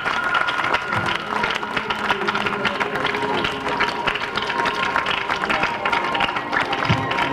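Applause from the audience at an outdoor fashion-and-entertainment festival show, dense sustained clapping from a crowd with cheering, steady and fairly loud over amplified background sound and a voice speaking.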